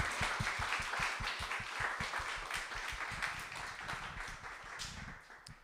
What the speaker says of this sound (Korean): 우리 김재웅 집사님 모실 때 큰 박수로 맞아주시기 바랍니다